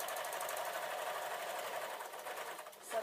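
A sewing machine stitches a small tote bag, running as a steady, close, fast mechanical whir that falters and slows near the end, with no voices.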